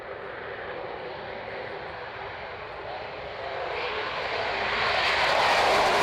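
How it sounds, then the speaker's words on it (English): A Lockheed Constellation propeller airliner taking off, its piston engines giving a loud, continuous roar that builds steadily as the aircraft accelerates, with no voices. "The wonderful Lockheed Constellation. Gorgeous, beautiful aircraft."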